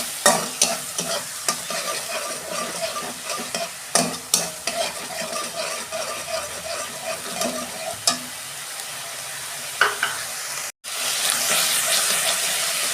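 Ginger and green chili stir-fry in a pan with a continuous close sizzle and repeated spatula scrapes in a steady rhythm. A brief gap is followed by a louder hiss.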